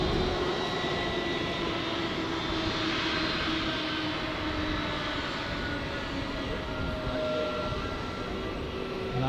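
An airliner taxis at Zurich airport, its engines giving off a steady, broadband jet rumble and whine that stays loud and even throughout, with no voices.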